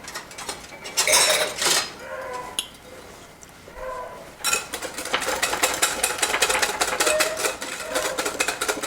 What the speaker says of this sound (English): I'm going to actually get my whisk.